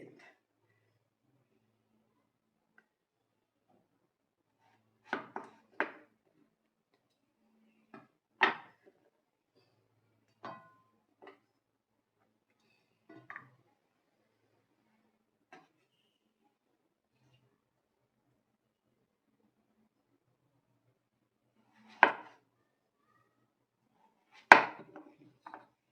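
A knife cuts a tender, seedless bottle gourd into thin slices, giving sparse, sharp chopping knocks against a board, with single strikes and close pairs separated by long quiet gaps.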